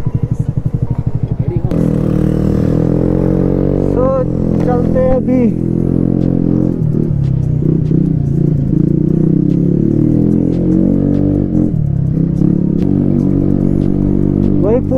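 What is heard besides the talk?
TVS Ntorq 125 scooter with Akrapovic exhaust at full throttle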